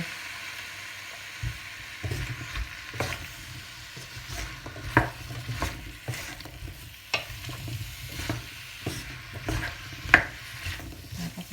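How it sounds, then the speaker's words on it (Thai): Pineapple is stir-fried in a pan for a Thai chicken and pineapple curry, with a soft continuous sizzle under repeated scraping and clacking of a utensil stirring against the pan, fairly close and without speech. "คั่วสับปะรดเราไปเรื่อย ๆ นะคะ"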